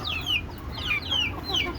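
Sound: domestic chickens clucking

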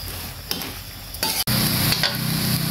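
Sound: stir-frying shrimp with seasonings in a pan

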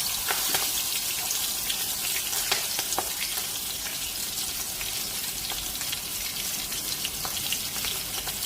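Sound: mustard paste added to frying chillies in oil

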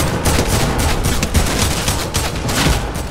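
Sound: gunfire from shooting at an enemy in Fortnite, a video game

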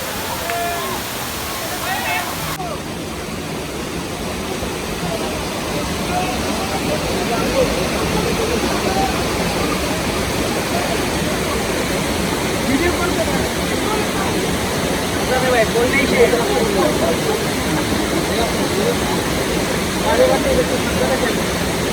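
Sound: waterfall

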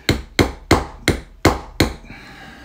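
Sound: hammering a part into a Spyderco Para 3 pocketknife

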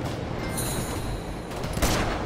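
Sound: gunshot in video game Uncharted

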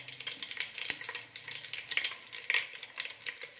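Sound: cinnamon and mustard seeds spluttering in hot oil

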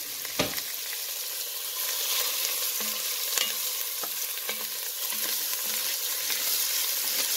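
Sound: onions, garlic and jalapeno frying in a pan

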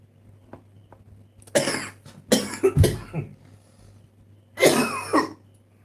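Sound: coughing

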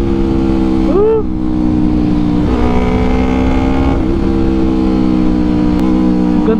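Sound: Yamaha R3 motorcycle with Akrapovic exhaust revving high RPM

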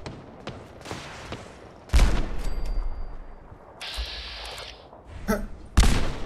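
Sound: rocket launcher fire from a super mutant, Fallout 4 video game

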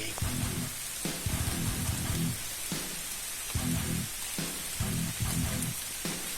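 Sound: rain falling

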